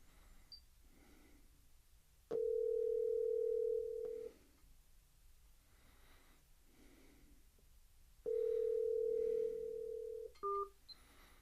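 A phone call rings out through a Pioneer AVH-210EX car stereo over Bluetooth as two long, steady ringback tones, each about two seconds, separated by a pause, followed by a couple of short beeps in a quiet car interior.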